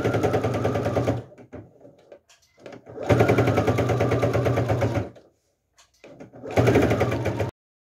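Sewing machine stitching along the far side of a fabric lining piece, running in three loud bursts with brief quiet pauses and soft handling noises between them.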